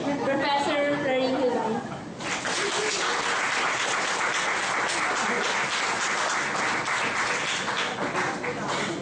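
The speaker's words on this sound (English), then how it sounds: "let us all give a warm round of applause to our beloved boss at the IGLR, Professor Florin" Warm applause from a lecture audience welcoming Professor Florin Hilbay to the podium, a dense steady wash of many hands clapping that swells after a brief spoken introduction and continues loudly throughout.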